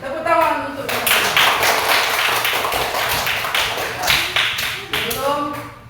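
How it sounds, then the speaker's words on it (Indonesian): A classroom group claps in quick, uneven bursts, steady for several seconds, with a voice speaking at the start and again near the end. "Tepuk tangan untuk kita semua."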